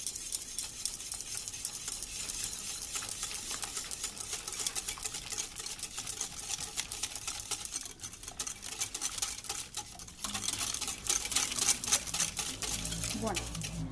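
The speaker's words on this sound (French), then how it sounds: "Et là, on va mélanger" Lemon yogurt cake batter with oil is stirred steadily in a bowl, a continuous wet scraping and swishing that grows slightly louder and busier toward the end.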